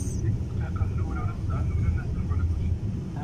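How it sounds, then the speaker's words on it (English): A low, continuous engine rumble of an airplane passing overhead, with voices talking faintly under the drone. "It's a plane."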